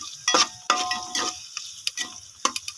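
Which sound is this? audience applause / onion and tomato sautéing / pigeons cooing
onion and tomato sautéing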